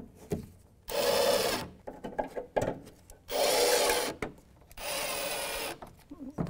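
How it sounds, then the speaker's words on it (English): A Torx bit driver snugs bolts on a 2015-2020 GMC Yukon XL during an upstream oxygen sensor replacement, giving three loud whirring bursts of under a second each, separated by clicks and handling noise. "This is the T5 Torx bit. Just going to snug it."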